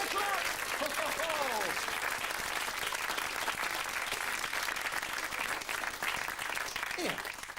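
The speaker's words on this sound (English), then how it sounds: "Give her a clap!" Sustained, dense audience applause fills a live Sooty stage show after a sawing-in-half magic trick, steady and loud throughout, with a voice briefly heard over the clapping at the start and near the end.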